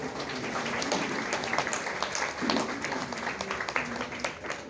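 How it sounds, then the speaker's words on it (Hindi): An audience at a Ram Katha celebration for Ram Lalla's birth claps to welcome guests, a dense, continuous wash of applause with a faint murmur of voices mixed in. "कृपया तालियों से इनका स्वागत करें"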